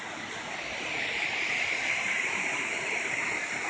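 A mountain waterfall in Japan roars in a steady, dense rush of falling water, loud and close, holding constant throughout with no voices.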